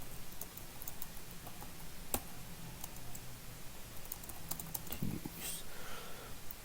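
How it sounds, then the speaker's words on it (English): Light, irregular keystrokes on a computer keyboard, soft and close, with a few sharper clicks scattered through a quiet room. "And I just typed in whatever"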